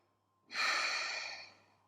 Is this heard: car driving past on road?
no